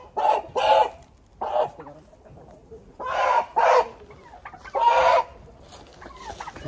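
Two roosters, local chickens, squawk and cluck loudly in a series of close, harsh bursts separated by short pauses.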